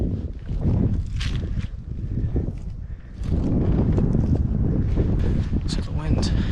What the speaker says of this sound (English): So the wind's actually blowing it down this power line.